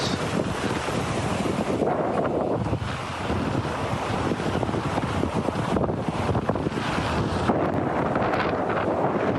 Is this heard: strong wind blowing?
yes